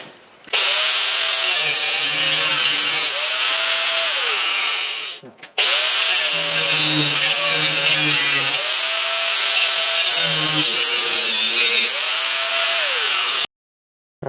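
A cutoff wheel slices through a scrap piece during a copper teardown in two long, loud, harsh screeching cuts separated by a brief pause. The pitch dips and rises as the blade binds and frees, and each cut ends abruptly.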